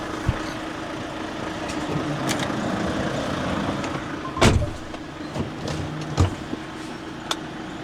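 A truck engine with an air-braked trailer runs at a low, steady idle hum, broken by a few sharp clunks and brief mechanical bursts nearby, with no talk.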